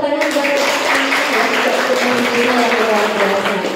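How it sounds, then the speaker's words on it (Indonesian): Clapping from a group of mothers at the opening of a life-skills training session in a village, fairly close and loud, mixed with a tonal hum and faint voices running underneath the applause. "Tepuk tangan buat"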